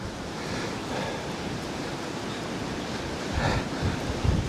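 Strong Storm Darragh wind ripping down a Dorset harbour, a loud continuous roar with gusts buffeting the microphone and water surging beneath, swelling toward the end with low thumps.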